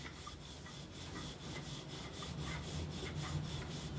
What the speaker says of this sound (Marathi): हलक्या हाताने पोळी लाटायची आपल्याला